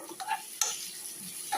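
Chopped onion, ginger and green chili frying in hot oil in a pan, a soft sizzle stirred with a spoon, short scraping strokes and a light clink against the metal.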